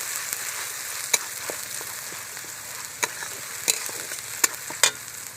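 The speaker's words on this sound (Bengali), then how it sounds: "এবার পেঁয়াজটা ভালো করে কষিয়ে নেবো," Onion paste fries in a pan with bay leaf as it is cooked down, a continuous close sizzle punctuated by several sharp spatula taps and scrapes against the pan, with no speech.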